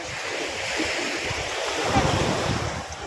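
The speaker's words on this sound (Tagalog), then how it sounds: "Maalon lang. Maalon." Ocean surf at White Beach in Bolinao, Pangasinan, rolls in as a broad continuous wash with heavy wind buffeting the microphone, close and fairly loud.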